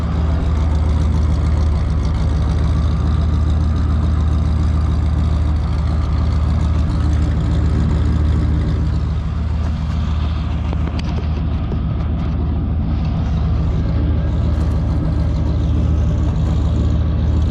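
A 1974 Ford Country Squire engine with a cracked exhaust manifold idles roughly and steadily, with a low rumbling drone and a raspy, sputtering exhaust tone throughout.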